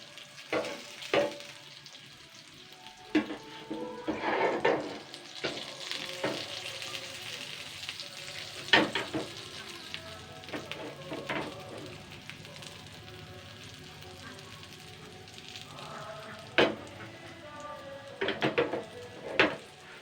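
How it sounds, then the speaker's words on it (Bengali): Eggplant slices fry on a tawa over medium heat, giving a steady sizzle for the whole stretch, with scattered sharper crackles and pops from the oil and a few scraping or turning clatters, close up and with no talking. "দেখুন বেগুনগুলো কিন্তু ভাজা হয়ে গেছে, মিডিয়াম আঁচে ভেজে নিয়েছি।"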